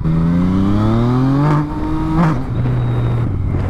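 A Yamaha MT-09 motorcycle fitted with an Akrapovic exhaust revs loud and close, its engine note climbing and then dipping sharply twice as it snaps through quick gear changes before pulling on steadily.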